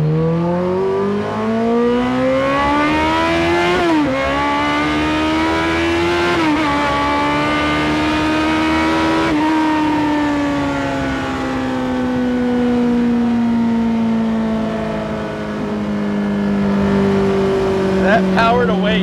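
A Campagna T-Rex three-wheeler powered by a ZX14R engine, sequentially shifted, screaming at high revs with sharp pitch climbs and quick drops at each gear change, loud and close throughout.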